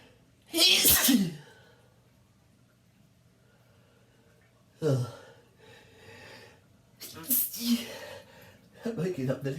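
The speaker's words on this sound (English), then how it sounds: "I'm waking up the neighbors with my loud sneezes" Loud sneezes from a person sitting in a bathtub, with a forceful burst near the start and two or three more later, separated by quiet gaps and followed by snorting breaths.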